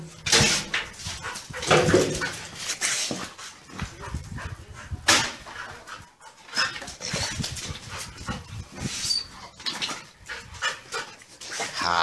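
A dog at home barks repeatedly and whimpers between barks, loud and close, in an irregular run of yelps and whines over a busy household background.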